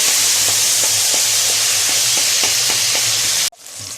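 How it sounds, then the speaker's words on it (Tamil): Brinjal sizzles and fries in a pan with a loud, continuous hiss and faint stirring scrapes, then cuts off abruptly near the end as a quieter sizzle follows. "சேர்த்து நல்லா வதக்கிக்கலாம்."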